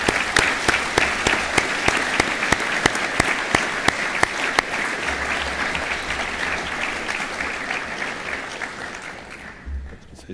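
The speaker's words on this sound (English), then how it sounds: "Graduates, would you please join me in a round of applause for the staff?" A large audience at a Swinburne university graduation ceremony applauds the staff with sustained, dense clapping that starts strong and gradually tapers off, heard alone in a big hall.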